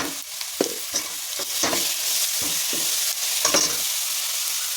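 Mustard seeds, cumin, dried red chillies, curry leaves and crushed garlic fry in hot oil for a bitter gourd pickle tempering, giving a close, steady sizzle broken by scraping stirs of a spoon in the pan.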